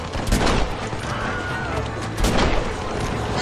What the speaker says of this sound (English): A nice red explosion.